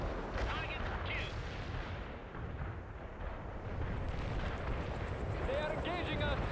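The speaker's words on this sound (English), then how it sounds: "Artillery strike hit the mark." Artillery strike explosions in the World in Conflict video game roll on as dense, continuous rumbling booms and crackling blasts, a thick barrage of layered detonations with battlefield noise throughout.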